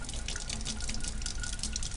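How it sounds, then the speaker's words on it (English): Steady running water from a sink tap washing green paint out of a brush, a continuous close splashing hiss with faint dripping, no voices. "I'm going to turn on my water a little bit"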